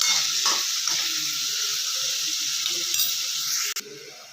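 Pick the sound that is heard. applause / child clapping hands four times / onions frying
onions frying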